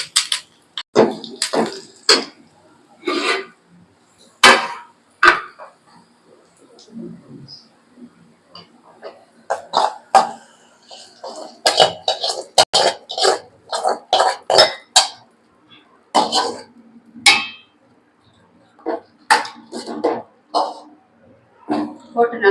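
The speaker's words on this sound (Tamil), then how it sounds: "நல்லா கிளறி கொடுத்துடலாம் கப்பக்கறி ரெடி" A ladle stirs Kerala-style tapioca (kappa) curry in a pan, making repeated sharp clanks and scrapes in irregular bursts, some clustered quickly, with short quiet gaps between.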